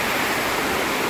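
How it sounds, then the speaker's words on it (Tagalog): A stream in Hong Kong Park rushes in a steady, loud, even wash of flowing water that carries on unbroken at close range. "May sapa."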